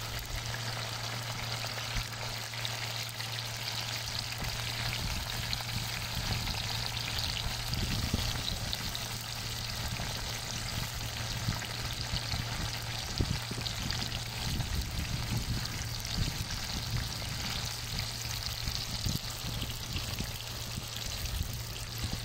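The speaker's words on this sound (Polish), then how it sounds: "Cebulę smażymy do złocistego koloru i następnie będziemy wyjmować." A steady, close sizzle of onions frying in a pan until golden, continuous and even throughout, with no talking.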